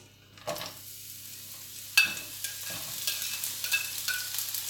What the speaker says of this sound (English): I'm gonna put in the onion.